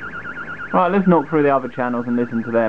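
Warbling burglar alarm siren picked up as a radio signal on an Eddystone EC10 receiver, a fast wavering tone running throughout beneath a man's speech.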